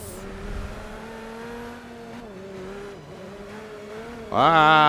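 Race car engine from the Forza Motorsport 5 racing game, droning steadily as the car slows, then swelling into a loud, rising rev near the end.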